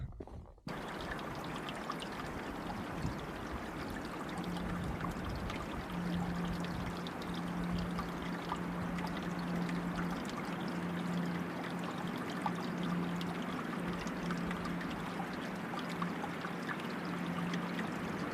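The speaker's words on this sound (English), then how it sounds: "There's this nice little mountain creek that we're walking along for a little bit here" A small mountain creek in the Goat Rocks Wilderness of Washington flows along a trail in a continuous soft, close trickle and burble, with a faint low hum underneath.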